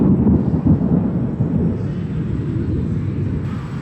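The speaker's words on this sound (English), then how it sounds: "It's thundering." Low rolling thunder rumbles across Central Park in New York City on a stormy day, a deep, continuous roll that swells and fades over several seconds with no talk over it.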